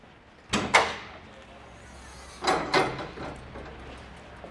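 Access doors on a Narjes baler flipped open, two pairs of sharp metallic clanks a couple of seconds apart, each with a short rattling ring-out, fairly close.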